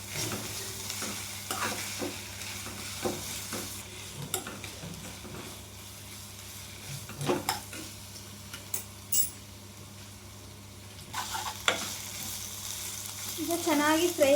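Ginger garlic paste sizzles and fries in a pan while a spoon stirs it in scattered scrapes and clinks, moderately close and steady, with no talking.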